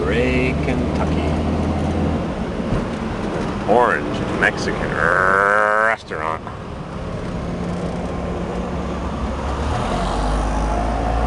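Cars crawl through a city traffic jam near City Hall in Beret, Kentucky, giving a steady rumble of engines and road noise with wind buffeting. Someone talks over it throughout.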